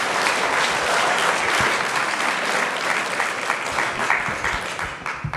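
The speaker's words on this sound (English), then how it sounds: "you were clapping over her comments" Audience applause at a city council meeting, a dense, steady burst of many hands clapping for about five seconds, fading slightly at the end.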